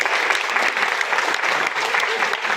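Dense, steady applause from a crowd fills the whole stretch at an even level, many hands clapping together with no voices rising above it.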